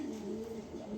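A pair of Lahori pigeons cooing close by, with soft, low, rolling coos running steadily throughout and no talking.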